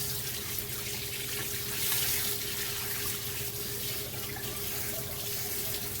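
Coolant pouring out steadily during a coolant flush on a Nissan Altima, a continuous close rushing stream of liquid with no talk.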